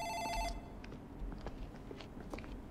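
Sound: office telephone ringing in Dark Fracture video game

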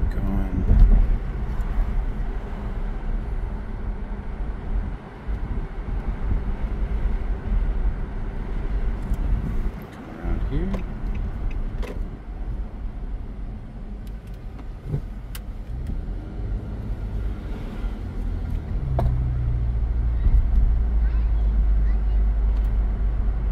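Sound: 2019 Nissan Maxima Platinum driving on the road

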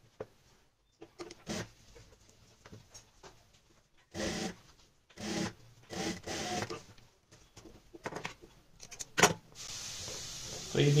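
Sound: sewing machine stitching piping onto kurti neck

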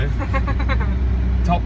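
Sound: four-wheel drive car taking a run up

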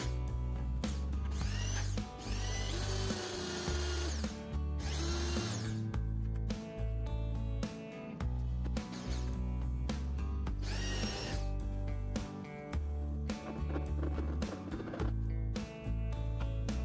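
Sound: power drill drilling a drain hole

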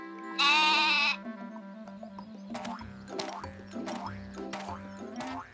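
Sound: goat bleating

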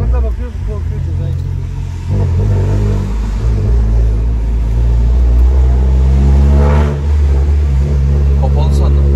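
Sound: car engine revving with Warex air filter

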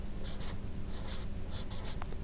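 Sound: writing out a puzzle by hand

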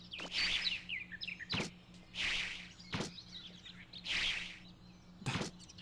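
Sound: bird chirping in the video game MegaMan Legends

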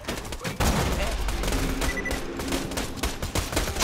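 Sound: gunfire in the video game Borderlands 2

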